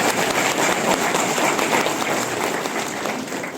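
Dense applause from a crowd at a company founding day celebration, steady and loud throughout with no pauses.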